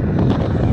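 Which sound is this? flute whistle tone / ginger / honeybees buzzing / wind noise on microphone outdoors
wind noise on microphone outdoors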